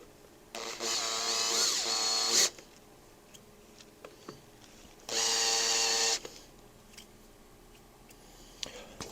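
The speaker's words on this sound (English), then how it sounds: "Countersink bit." Power drill with a countersink bit working on a Harley-Davidson XLCH Ironhead transmission install, two loud bursts of a couple of seconds each separated by quiet shop clatter.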